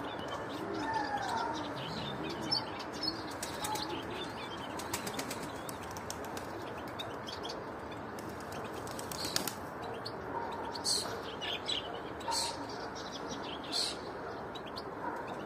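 Tumbler pigeons fly overhead, with repeated wing-flapping bursts and clattering against faint outdoor ambience, along with occasional chirps and soft cooing in the background.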